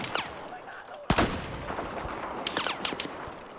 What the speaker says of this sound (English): I'm getting shot by somebody